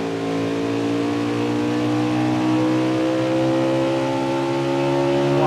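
A green Xfinity race car builds speed down the long back straightaway at Mid-Ohio. The engine note is loud and close, its pitch climbing steadily as the car accelerates, with no voices over it.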